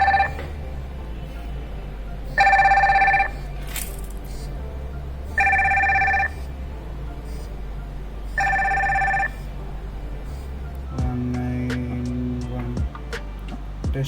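Fire-Boltt Blizzard Bluetooth calling smartwatch ringing through its small speaker during a test call: three repeated electronic ring bursts with gaps, then a short rising tone sequence over faint background hiss.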